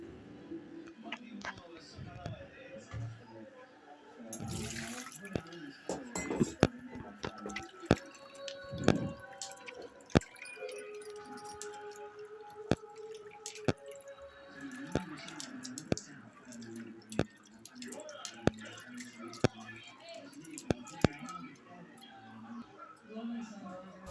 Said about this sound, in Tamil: நான் ரெண்டு தடவை கரைச்சி எடுத்து நல்லா வடிகட்டிக்கிறேன்